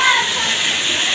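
Water gushes loudly and continuously from a broken hospital fire system, a dense steady rushing hiss with faint voices in the background.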